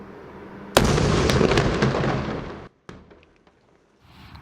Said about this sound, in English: Here's the footage from the first explosion.